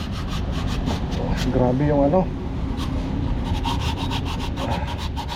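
Steady gritty scraping of sandpaper sanding rust off a truck's metal, continuous and close, with a voice speaking briefly in Filipino partway through.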